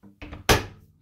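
A Vestel 7601 tumble dryer door swings shut with a short rattle and then a single loud close-up thunk, fading quickly.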